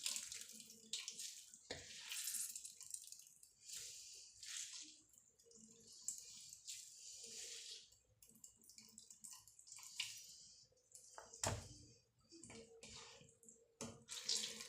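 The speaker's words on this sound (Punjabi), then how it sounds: "ਹੁਣ ਇਹਨਾਂ ਨੂੰ ਆਪਾਂ ਨਿਚੋੜ ਦਿੰਨੇ ਆ ਨੂਣ ਲਾ ਕੇ ਧਰੇ ਨੂੰ ਇਹਨਾਂ ਦੇ ਵਿੱਚੋਂ ਪਾਣੀ ਕੱਢ ਦਿੰਨੇ ਆ" Water splashes and drips as salted grated radish is squeezed by hand in a kitchen, irregular wet trickles and bursts of dripping over several seconds, fairly close and alone.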